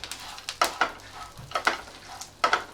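Grated coconut, sesame seeds and peanuts dry-roasting in a pan, with soft scraping stirs at irregular intervals over a faint background hiss.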